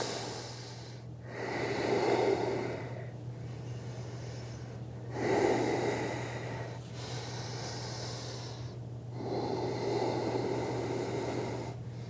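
Slow, deep yoga breaths, drawn in and pushed out audibly through the nose, repeat in about three long, even cycles. They are close and fairly quiet over a low steady hum, with no talking.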